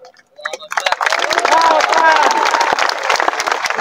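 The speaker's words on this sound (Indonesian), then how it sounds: "Tengok orang ini ragu-ragu tepuk tangan." Audience at an Islamic religious lecture in Riau giving a short, hesitant round of applause that starts with scattered claps, then swells into dense clapping and holds.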